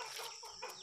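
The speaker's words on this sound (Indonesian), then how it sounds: "ternyata di dalamnya ini ada anakan burung ya teman-teman" A baby bird calls from inside a small hole, a brief, faint, scratchy chirping cluck lasting under a second.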